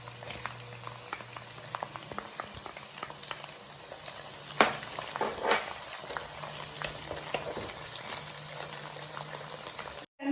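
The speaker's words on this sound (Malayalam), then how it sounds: "വെളുത്തുള്ളി ഇടുന്നോടൊപ്പം നമുക്ക് ആ പച്ചമുളക് ഇട്ട് കൊടുക്കാം" Garlic and green chilies sizzle in hot oil for a pickle, a steady crackling hiss with scattered pops and a couple of louder spits partway through, close by and with no talk.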